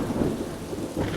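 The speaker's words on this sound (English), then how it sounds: "The thunder was roaring in the skies." Thunder rumbling low and steady on a stormy night, with rain pattering underneath throughout.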